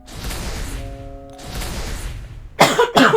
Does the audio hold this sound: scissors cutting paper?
no